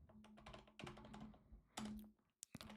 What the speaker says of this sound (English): I'm going to type in the same password